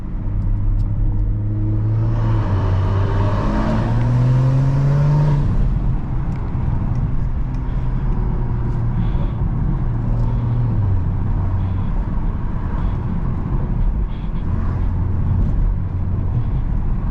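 A stage 2 tuned BMW M340 driving, with a steady loud engine drone from inside the car, a rising rev around the middle, then a settled cruise rumble.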